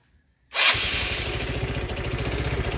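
A motorcycle fitted with a newly installed 4-pin CDI starts on one click after a short silence, then settles into a close, steady idle.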